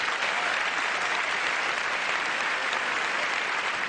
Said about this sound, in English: big round of applause for Amanda